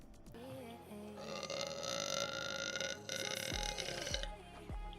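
A streamer lets out a long, loud burp lasting several seconds, rumbling and drawn out, close to the microphone with no talk over it.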